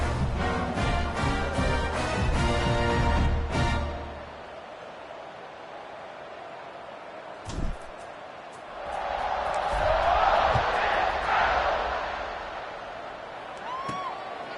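Stadium crowd noise in a college football video game featuring Arkansas: loud layered band music and chanting at first, then quieter ambience, then a broad swelling roar of the crowd before fading, with a brief thump in between.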